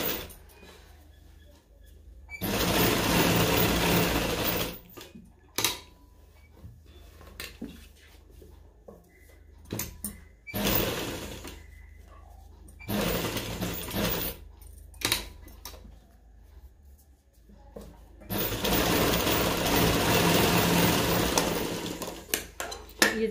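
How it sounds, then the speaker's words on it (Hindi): A sewing machine runs a rough seam on fabric in several loud, rapid whirring bursts of a few seconds each, separated by quieter pauses with small clicks and handling noises. "यहाँ पे एक रफ सिलाई लगाएंगे पहले"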